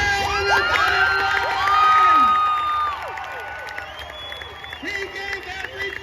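A crowd at a county demolition derby cheers and whoops for a driver, with children shouting, high voices rising and falling over scattered applause, loud and lively throughout.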